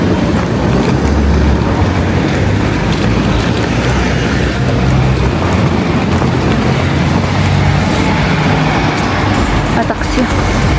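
A taxi ride on a road in France near Sigean brings a loud, steady roar of engine and road rumble heard from inside the vehicle, with voices talking over it.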